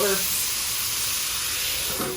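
Water hitting a hot covered pan of sweet potato fries, a loud continuous steaming hiss close up that fades slightly at the end.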